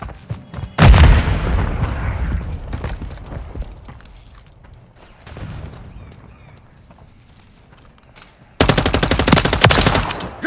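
A Semtex grenade blast and gunfire in the Favela map of Call of Duty: Modern Warfare III: a loud booming explosion early, faint rumbles after, then a sustained rapid burst of automatic fire at the end.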